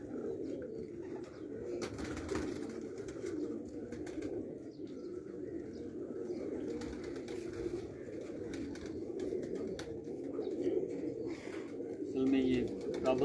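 Suri pigeons of a Sialkoti breeder's loft coo in a steady, continuous murmur at close range, with occasional wing flutters and someone talking over them throughout.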